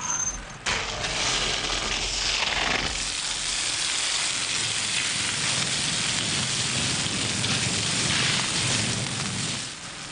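A steady, loud hiss of a fire hose spraying water onto a fire runs continuously, broadband and dense like a strong jet hitting a surface, with a brief low rumble at the start.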